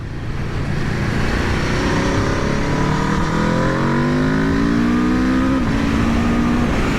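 A 2021 Aprilia RSV4 1100 Factory motorcycle accelerates hard, its loud, close engine note climbing steadily in pitch through the gears with a brief dip at a shift, heard alone without talk.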